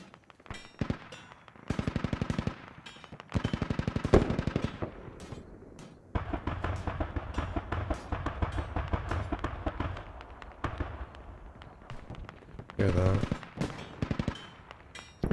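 Automatic weapon fire in the tactical shooter Squad, with repeated bursts of rapid shots at mid distance, some long sustained strings and sharper single cracks, heard over faint radio-style voices talking.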